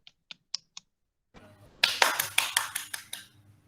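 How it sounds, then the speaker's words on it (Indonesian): A classroom group claps briefly for classmates who answered correctly, a short burst of close hand claps after a few sharp taps. "Tepuk tangan untuk kelompoknya Mas Deda menjawab betul."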